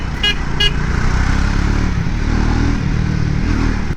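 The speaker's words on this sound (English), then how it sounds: "I'm genuinely having fun riding this bike." A Triumph Speed 400 motorcycle roars loud and close while being ridden, a sustained engine rumble with two short horn toots near the start.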